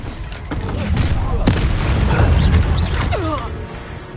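A Confringo fire spell in Hogwarts Legacy blasts with a booming explosive crack amid rumbling combat noise and whooshing effects, while a voice speaks over the fight.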